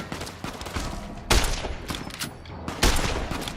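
Sharp, loud shots from the player's gun in Fallout New Vegas on PC, with two heavy reports standing out among smaller crackling shots and no talking.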